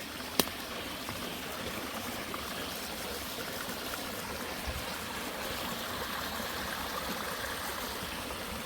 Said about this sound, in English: It just slowly cascades down all these big flat rocks.